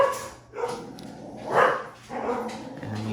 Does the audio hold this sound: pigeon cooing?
no